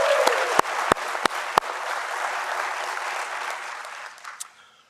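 Commencement ceremony audience giving a round of applause, a broad wash of clapping with a few sharp claps standing out, fading away toward the end.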